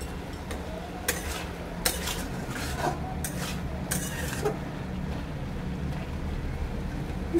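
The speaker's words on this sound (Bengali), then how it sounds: "লঙ্কাগুলোকে একটু ঘেটে দিচ্ছি, ঝাল ঝাল হবে।" Green chillies stirred with a utensil in a pan of boiled potatoes, giving several sharp scraping strokes over a steady low cooking rumble, with no talking.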